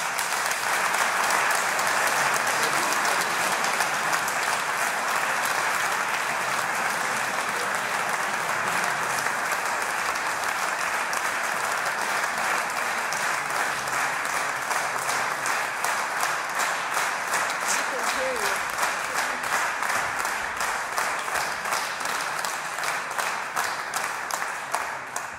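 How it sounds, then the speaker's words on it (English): Concert audience applause for a young performer at a classical recital, long and sustained, starting as a dense wash of clapping that gradually settles into a more rhythmic, unified beat toward the end. "Let's applaud Ekaterina."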